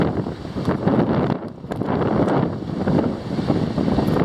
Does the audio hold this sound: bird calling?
no